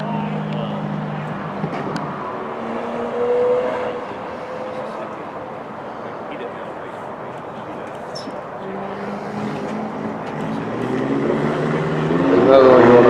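A car, likely among Corvettes and a VW out on the road, driving fast past at a distance, a rising and falling engine drone that swells near the start and again at the end, with people talking over it.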